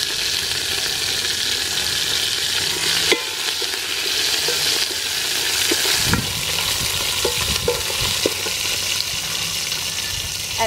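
Lemongrass stalk, garlic and lime leaf sizzle steadily in a hot pan for a mud crab tom yum, with a dense continuous crackle broken by a few scraping stirs, close and loud throughout.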